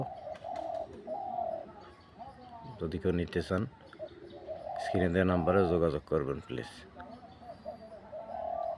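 A decoy dove calls from a tree in repeated low coos, with a person talking over and between the calls.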